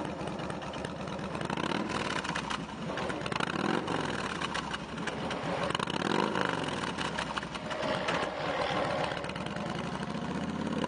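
A used 2005 Kawasaki Vulcan VN2000 heavyweight V-twin cruiser idles steadily up close, its loud, even engine rumble running unbroken throughout with no voices over it.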